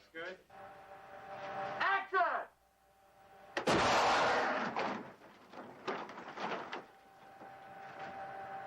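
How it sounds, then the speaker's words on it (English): A sudden loud blast from an explosion set off during a film stunt erupts amid scattered clanks and rumbles, followed by lingering debris noise and intermittent bangs. "The difficult stunt will become even more threatening as an explosion is set off at the same time"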